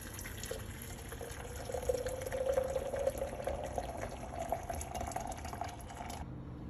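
Water poured into a coffee machine's reservoir, a soft trickling fill with a faint rising gurgle under a steady hiss that cuts off near the end, close and quiet.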